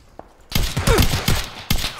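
Gunshots in a PlayerUnknown's Battlegrounds solo match come in several sharp, loud bursts. Tight clusters of rapid shots are separated by brief pauses.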